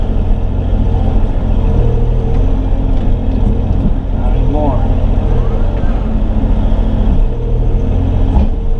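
Takeuchi mini excavator with its engine held at about half throttle, a steady low diesel drone running continuously up close while someone talks over it.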